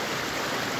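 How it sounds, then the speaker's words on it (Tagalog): Steady rushing water from a river flowing down from higher ground fills the moment, a broad continuous hiss with no pauses. "hagusgos ng tubig"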